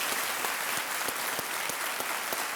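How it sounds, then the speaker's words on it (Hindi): Studio audience applause welcomes a guest on the KBC quiz show, a dense, continuous wash of clapping with no break, loud and close throughout. "तालियों के साथ आपका भी हम स्वागत करते हैं।"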